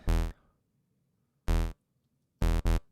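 An 808 bass patch made in the Serum synth, with a quarter-note volume LFO, plays four deep, buzzy notes, with a lone hit, a pause, another hit, then a quick double. Each note is clean and cuts off sharply.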